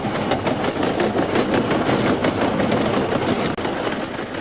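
A train rolling along a railway in Africa, a loud, continuous rumble with rhythmic clickety-clack from the wheels over the rail joints, close by and steady throughout.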